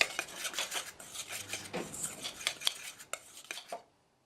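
Dry baking ingredients, including baking soda and a pinch of salt, mixed in a bowl for cookie cake batter: close scraping and clinking of a utensil against the bowl in a steady rhythm for about four seconds, with no talking.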